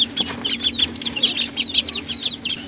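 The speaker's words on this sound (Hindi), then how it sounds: "ये देखें हमारे छोटे बच्चे, बत्तख के बच्चे और मुर्गी के बच्चे जो हैं बेचैन हो रहे हैं खाने के लिए" Chickens clucking with high chirping chicks and ducklings, a busy repeated chatter close by over a low steady hum.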